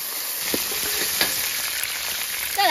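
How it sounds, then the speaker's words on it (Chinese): Ginger, garlic and dried chili are stir-fried in hot oil, with a bright continuous sizzle and a few stirring clatters over a short stretch. "把配料倒进来炒，有姜蒜、干辣椒"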